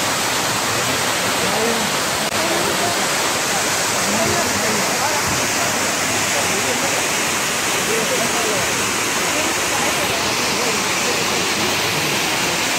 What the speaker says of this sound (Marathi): पाण्याचा आवाज तुम्ही ऐकाल ना तर ऐकतच राहाल